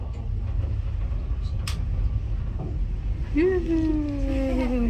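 An aerial tramway car at Franconia, New Hampshire hums and rumbles steadily, then a rising mechanical whine sweeps in and slowly falls as it passes Tower 1, with a voice talking underneath.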